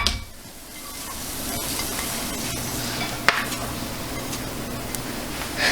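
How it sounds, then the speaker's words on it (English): A sauteed mixture is stirred into potato in a pan while making pepper roti, with soft scraping and a faint sizzle under a low, steady hiss, plus a few sharp clinks of the utensil against the pan. "now add the sauteed mixture to the potato."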